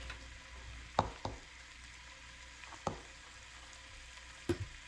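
Bacon rendering in a pan gives off a soft, steady low sizzle, broken by a few sharp utensil clicks and taps against the pan, with no one speaking.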